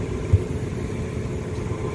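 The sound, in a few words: HVAC unit blower motor running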